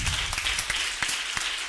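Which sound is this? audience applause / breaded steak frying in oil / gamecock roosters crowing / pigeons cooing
audience applause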